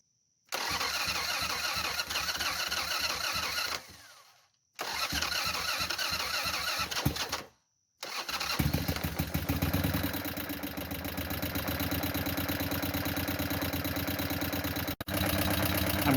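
A 2000 Buell M2 motorcycle engine cranks in two short starter bursts, then fires and settles into a loud, steady, lumpy idle, heard close for the rest of the clip with no talk.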